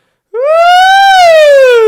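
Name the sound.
voice imitating a siren, singing siren exercise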